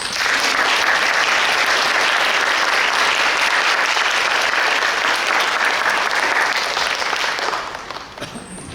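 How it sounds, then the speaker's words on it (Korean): An audience at a theological seminary lecture breaks into full, sustained applause to welcome a professor. The crowded clapping holds evenly for several seconds before fading near the end. "우리 교수님 나오실 때 다 같이 박수로 환영해 주시기 바랍니다."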